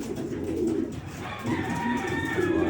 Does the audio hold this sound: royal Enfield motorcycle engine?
no